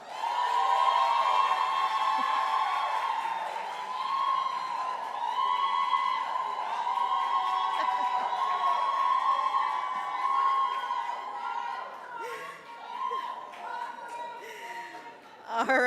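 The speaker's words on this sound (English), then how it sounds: "Please cheer on the Jamaica Tourist Board." Audience at a public sector debate competition grand final cheering for the Jamaica Tourist Board, sustained shouting and whooping voices with scattered clapping that tapers off near the end.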